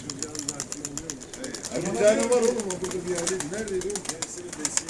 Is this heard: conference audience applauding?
no